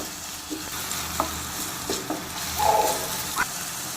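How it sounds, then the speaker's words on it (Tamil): Sliced onion fries and sizzles in a pan for raw banana rice, with a steady hiss broken by light scrapes of stirring, close and moderately loud. "வெங்காயம் பொன்னிறம் வர வரைக்கும் நல்லா வதக்கிக்கலாம்."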